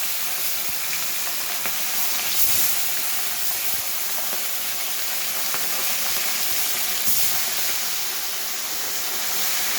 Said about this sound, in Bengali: এখানে তেলটা গরম হয়ে গেছে, আমি মাছগুলো ছেড়ে দেবো।